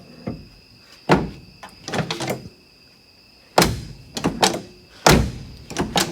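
The door of a 1967 Plymouth Valiant is shut repeatedly, giving loud, solid thunks with rattling follow-through, several closes spaced a second or two apart, near and clear with no talking.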